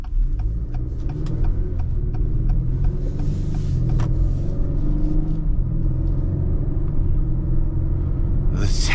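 Low, steady engine and road rumble inside a third-generation Acura RDX with a 10-speed automatic on the move, loud and constant, with faint ticking clicks and a brief brighter rustle at the end.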